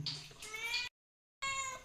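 A cat meows twice, close by, with a short pause between the two calls.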